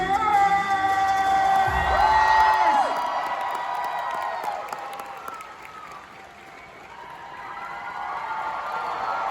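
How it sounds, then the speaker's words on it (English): A convention crowd claps and cheers steadily for One Piece voice actors at a panel while music with sustained tones plays over it, the applause fading slightly then swelling again. "Please give a huge round of applause"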